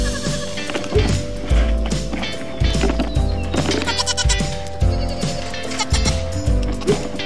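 Baby goats bleat repeatedly on weaning day, loud and close, with rhythmic thumps and knocks between the calls.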